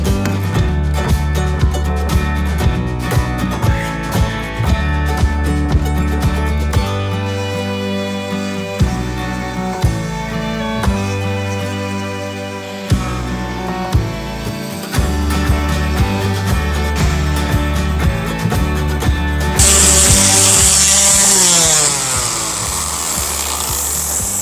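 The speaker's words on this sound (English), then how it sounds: "How's the sanding going, mate?" A power sander works steadily on a wooden ladder, a loud, continuous droning whine with shifts in pitch and pressure as it is pushed across the wood, running throughout with no voices.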